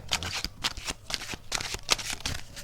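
Tarot cards shuffled by hand in quick, close riffles and flicks, a rapid papery rhythm of bursts with a faint voice in the background.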